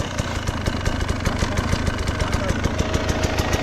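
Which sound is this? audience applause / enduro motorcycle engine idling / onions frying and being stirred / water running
enduro motorcycle engine idling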